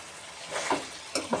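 Chicken frying in a pan, a soft steady sizzle with a few sharper spits and crackles near the end, heard alone without talk.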